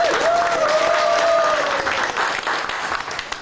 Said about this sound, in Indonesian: Luar biasa, tepuk tangan buat Anda.